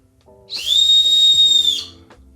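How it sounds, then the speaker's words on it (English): A single shrill blast from a whistle built into a New Balance 574 sneaker heel, held for about a second, loud and close, with faint mechanical hum underneath. "it wouldn't be a full review if I don't go ahead here and blow the whistle"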